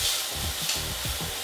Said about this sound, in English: next we are turning on the frying pan, and what we're gonna put in there is 2 slices of bacon